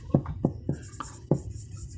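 Pen strokes on paper while working a class 8 maths problem, a handful of short scratchy strokes in an uneven rhythm, close and clear with no talk over them.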